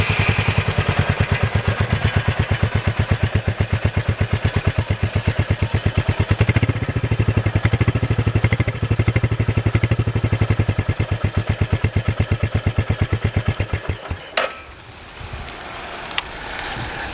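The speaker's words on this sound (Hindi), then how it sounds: "लॉन्ग स्ट्रोक इंजन होने की वजह से डुग डुग साउंड काफ़ी हद तक आपको यहाँ पे देखने को मिलता है" A Royal Enfield Meteor 350 with its long-stroke engine and stock exhaust idles close by in an even, rapid thump-thump beat that holds steady, then cuts off near the end with a few faint clicks.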